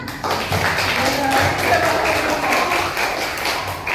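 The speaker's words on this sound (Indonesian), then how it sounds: "kita beri tepuk tangan" A class or audience in a school session claps for a student; steady, dense applause with scattered taps holds at moderate level through the stretch, with a faint voice underneath.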